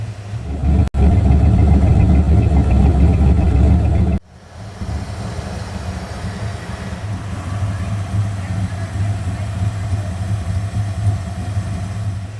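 Engine and exhaust of a V8-swapped Mazda Miata driving on a cold late-October day, with a loud, steady low rumble, a brief sharp break near the start, then a quieter, sustained cruising drone.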